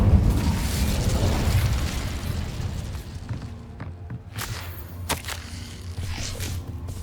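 Incendio fire spell cast in Hogwarts Legacy, a rushing burst of flame with low rumbling that fades into crackling pops and sharp snaps, fairly loud and close, with no speech.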